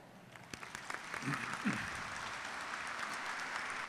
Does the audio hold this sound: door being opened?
no